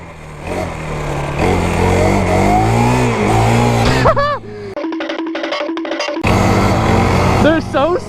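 An FRP Sahara 40 mini quad ATV with a thumb throttle revs while riding. Its small engine whines up and down in pitch, dips briefly in the middle, then revs again close by.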